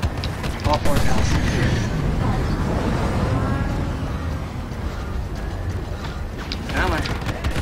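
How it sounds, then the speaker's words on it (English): Quad cannons firing from a spaceship in Star Citizen, a sustained loud barrage of heavy booming shots with a fresh burst near the end, dense and continuous. "Quad cannon. All four cannons."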